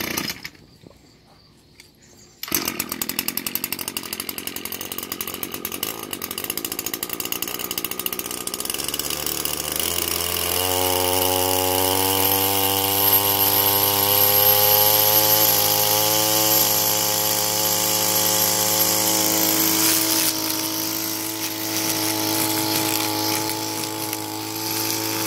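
An Echo GT-225 string trimmer two-stroke engine fires on its first start, then runs steadily with a rising, sustained buzz that climbs in pitch, close and loud with no talking.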